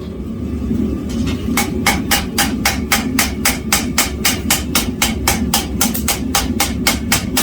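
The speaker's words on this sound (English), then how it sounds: "I'm not hitting very hard, as you can see. You don't need to hit very hard to set a diffusion weld." A blacksmith strikes hot steel with a hammer to set a diffusion forge weld, light blows in a steady, even rhythm of about three per second, close and distinct over a constant low roar from the forge.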